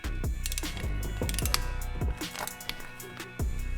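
Close, loud mechanical clicking and ratcheting while a bolt is tightened on a Harley Davidson clutch basket, a series of sharp irregular clicks and thumps with brief pauses, no talking.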